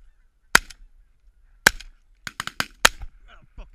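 Shotgun blasts ring out during a goose hunt, several loud sharp reports spaced apart, the last ones fired in quicker succession, with geese honking in between.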